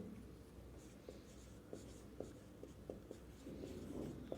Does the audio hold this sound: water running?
no